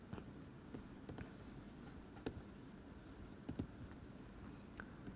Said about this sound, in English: Let me write that in words.